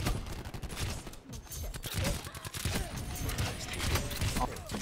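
Gunfire in Black Ops 4, a busy mix of repeated shots and clatter running throughout at moderate loudness, with voices talking over it.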